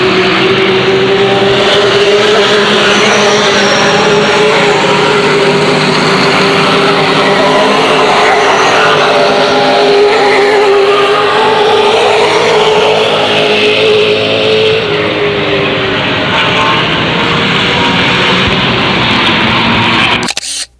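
Race cars from the Illiana and ARTGO series roar past together while battling for the lead, a loud, sustained engine drone that stays steady and close before cutting off abruptly at the end.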